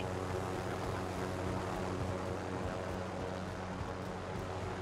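A helicopter flies in the video game Call of Duty: Warzone, giving a faint, steady rotor and engine drone that stays constant throughout with no voices over it.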